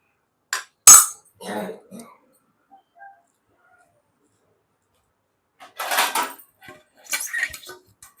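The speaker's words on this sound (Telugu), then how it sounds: "మనం మూత పెట్టుకుందాం అండి." A metal lid is set onto a pot of simmering moong dal rasam, producing a few sharp, close clanks and clatters separated by near silence.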